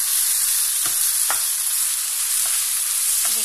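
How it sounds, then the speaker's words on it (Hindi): Tomatoes sizzle and fry in a hot pan while Rajasthani dal is being made, giving a steady loud crackling hiss with a few soft stirring clunks, and no talk over it. "इसके बाद में ये टमाटर डाल दीजिए, इनको अच्छे से फ्राई होने दीजिए आपस में।"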